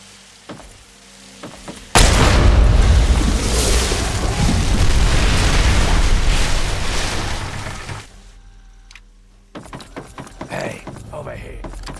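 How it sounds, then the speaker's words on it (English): An explosion in the PC game Fallout 3 erupts suddenly after a quiet start into a loud, deep blast. A long roaring rumble follows and fades over several seconds, then voices and small scattered sounds take over. "Looks like an explosion should do the trick."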